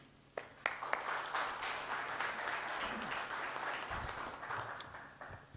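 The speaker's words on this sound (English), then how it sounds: "let's give them another round of applause" Applause from a conference audience after a panel talk at an academic event: sustained, fairly distant clapping with a few sharper claps standing out at the start, holding steady before thinning toward the end.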